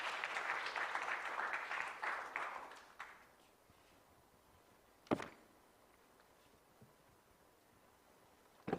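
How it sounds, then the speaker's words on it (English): An audience at a national legal aid conference claps for about three seconds before the applause fades into near silence, broken by a couple of sharp knocks or bumps later on. "Please some clap as she takes the podium."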